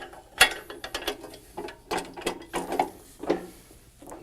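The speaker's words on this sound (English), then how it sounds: "To lock the carriage into place, simply reinsert the retaining pin." A retaining pin is pushed back in to lock the carriage of a Genie Superlift Contractor material lift, giving a run of sharp metallic clicks and ratchet-like rattles, close and fairly loud, with short gaps between them.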